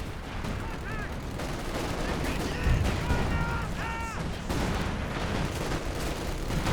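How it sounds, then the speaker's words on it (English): Assault artillery pounding the back lines in Company of Heroes 2, a dense barrage of distant booms and gunfire layered with whistling tones, steady and loud throughout. "Got assault artillery going on the back lines."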